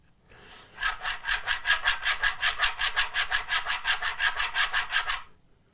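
Spokeshave blade stropped on a leather strop, a steady rhythmic rasping of about twenty quick back-and-forth strokes, close and fairly loud, with no talking.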